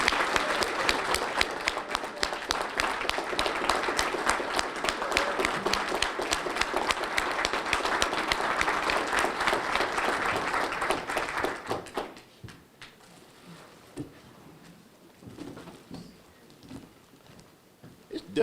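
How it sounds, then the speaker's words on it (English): A ROTC 50th anniversary celebration audience at UAPB breaks into sustained, dense clapping for about twelve seconds, then it stops abruptly and quiet room sounds with scattered voices follow. "Give them a round of applause."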